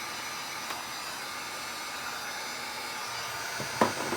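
A heat gun blows steady hot air over plastic toy parts of a GI Joe Helijet Pack, a constant close broadband whoosh with one brief knock near the end.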